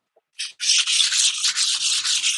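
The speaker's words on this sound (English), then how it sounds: "I'll do a little fine sand and just to see what it's like. 600 grit." Fine 600-grit sandpaper rubs across a wooden pub table in quick back-and-forth strokes, a close, steady, hissing scrape of about a dozen passes with no talking.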